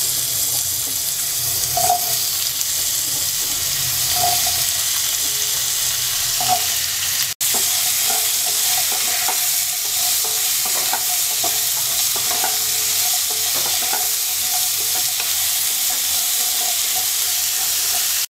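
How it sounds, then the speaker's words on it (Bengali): Potatoes frying in hot oil in a pan, stirred now and then with a spatula, for a Bengali egg curry: steady close sizzling with regular scraping stirs and a few soft clinks, no talking. "এবার আলু দিয়ে দিচ্ছি।"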